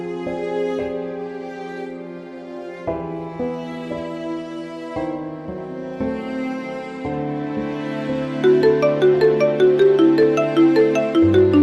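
A phone ringtone plays for an incoming call, a melodic electronic tune that repeats steadily and grows busier and louder toward the end, clear and close with no talking over it.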